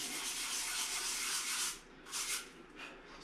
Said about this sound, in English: Let's scuff up this slate.